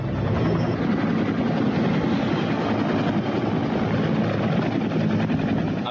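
A military helicopter roars continuously and loudly during an India–US joint army exercise, its dense rotor and engine noise steady from start to finish.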